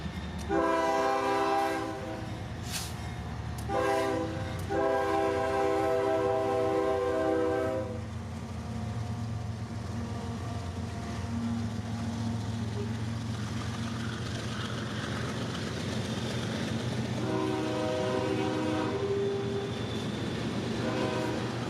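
A train horn blasts in several long chords, then the heavy rumble of a passing freight unit train of empty ethanol cars rolls on before the horn sounds once more, in Plant City, Florida.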